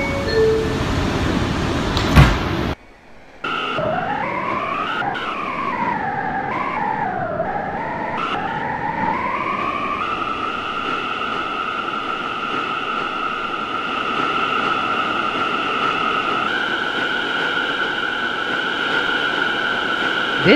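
An R179 subway train on a C local run in a Roblox game, running steadily with a strong rising and falling motor whine that settles into a sustained two-tone hum after a brief door-area pause.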